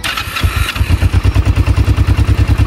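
A Kawasaki ER5 motorcycle engine cranks and catches, then settles into a steady, rhythmic, close-up idle with loud, evenly spaced pulses.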